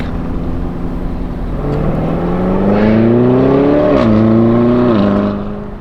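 A Lamborghini Revuelto driving past, its loud engine note rising in pitch as it nears, briefly dipping at a gear change, then climbing again before fading slightly.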